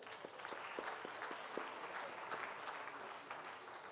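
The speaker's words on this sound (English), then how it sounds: "Can we give them an applause?" A seated audience at an African women in mining awards event breaks into dense, sustained applause, a continuous wash of many hands clapping from a large crowd, with a few distinct nearer claps early on.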